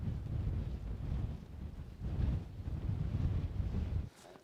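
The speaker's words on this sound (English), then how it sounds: "The wind is picking up a little bit, so I'm hoping that the tent's up to the job." Gusty wind buffets the microphone at a lakeside campsite in the Lake District, a low rumbling roar that surges and eases in waves before cutting out abruptly near the end.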